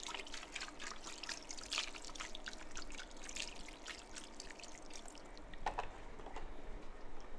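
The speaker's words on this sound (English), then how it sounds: "we'll just want half a litre of beef stock" Beef stock trickles and splashes steadily into a pot over an outdoor fire in harsh weather, a soft continuous liquid pour against a low background rumble.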